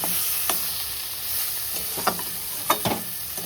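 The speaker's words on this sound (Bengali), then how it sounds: "এইভাবে কিছুক্ষণ নাড়াচাড়া করতে হবে" Shrimp mixture being stirred in a pan over a low flame for kochupata chingri bhapa, a soft continuous sizzle with a few distinct scraping strokes of the spatula.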